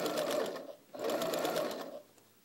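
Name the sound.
sewing machine sewing fabric curve pieces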